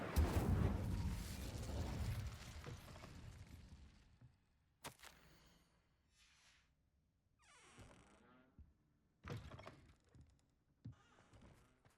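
A fire spell cast in Hogwarts Legacy bursts out in a loud, roaring whoosh of flame that fades over a few seconds, followed by scattered quieter magical cracks and shimmering effects.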